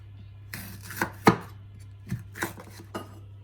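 Knife chopping green pepper lengthwise on a board, a series of about seven sharp, fairly close knife strikes at irregular intervals over a steady low hum.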